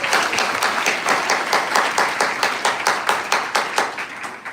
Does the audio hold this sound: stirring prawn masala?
no